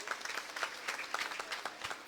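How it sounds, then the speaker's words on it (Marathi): Audience applause for a lucky draw winner at a scheme launch event, a steady, fairly faint wash of many hands clapping from across the room. "जोरदार टाळ्या त्या भाग्यवान विजेत्या"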